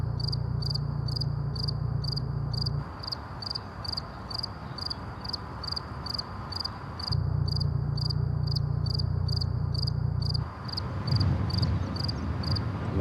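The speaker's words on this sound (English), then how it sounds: "Maybe we can run some cricket sounds and he can continue looking at you." Crickets chirp in a steady, fast pulsing rhythm, the trill running continuously over a low background hum that switches on and off.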